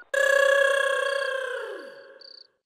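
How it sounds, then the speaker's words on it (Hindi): A telephone rings once in a single sustained electronic tone that sounds loud and close, then slowly fades and bends downward before cutting off, followed by a brief high beep. "उसका फोन बज रहा है, बज रहा है सर"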